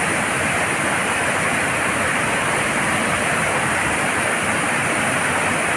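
Aliwagwag Falls in Cateel, Davao Oriental, a loud, dense, unbroken roar of cascading water filling the whole clip, steady and close, with no voices.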